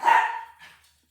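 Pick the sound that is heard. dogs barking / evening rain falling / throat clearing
dogs barking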